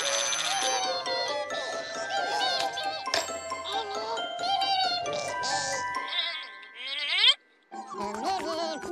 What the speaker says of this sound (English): Mr. and Mrs. Wattinger, the trublyphone is ringing.